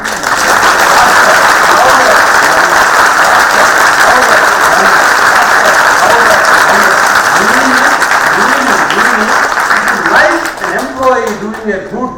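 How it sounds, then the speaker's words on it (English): An audience applauds panelists at a memorial lecture, a loud, dense and sustained burst of clapping that thins out near the end as a voice begins speaking. "Clap for the panelists."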